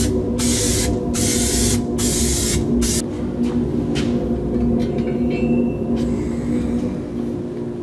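A spray can lays primer onto a part from a 1982 Jeep CJ7 in loud close bursts of hissing, several long sprays broken by short gaps, then quieter background hum.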